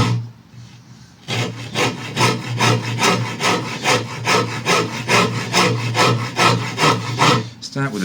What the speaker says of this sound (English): Start with a very aggressive wood rasp.